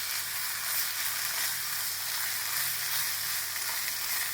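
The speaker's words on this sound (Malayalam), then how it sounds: "എന്നിട്ട് എല്ലാം കൂടി നല്ലോണം മിക്സ് ചെയ്യാം." Soy sauce and tomato sauce are being mixed into chicken noodles in a frying pan, giving a steady, continuous sizzle with faint stirring underneath. No talking.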